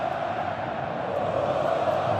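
Dense roar of a football stadium crowd of over 45,000 Corinthians fans celebrating during a match against São Paulo, a steady, loud wash of cheering and chanting with no break.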